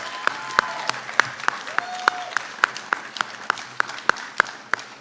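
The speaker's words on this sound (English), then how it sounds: "join me to get started with a huge round of applause to your family and friends" Audience applause at a respiratory therapy graduation ceremony, honoring graduates' family and friends. A steady wash of many hands clapping fills the full stretch, with sharp individual claps standing out above the dense crowd sound.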